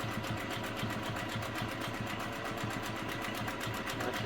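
Singer 401A sewing machine stitching a wide zigzag, a fast steady mechanical whir with rapid even needle pulses, close and continuous, no talking.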